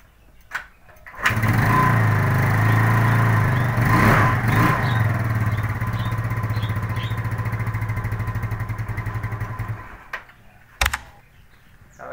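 A Honda CD motorcycle is kick-started and fires up almost at once, settling into a steady, loud, close idle with a low rumbling drone for several seconds before being shut off, with brief clunks before and after.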